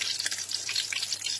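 Snakehead fish fries in a pan with a soft, steady sizzle and light crackle that stays faint and close throughout, with no talk.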